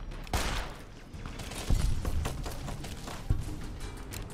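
Gunfire in Fallout New Vegas, a few heavy shots with booming low thuds spaced out over a crackling din of scattered firing.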